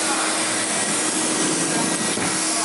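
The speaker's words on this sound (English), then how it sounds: "So I'm vacuuming along," A vintage Compact C9 Tristar vacuum cleaner runs loud and close, a constant whooshing motor drone with a steady hum and no voices.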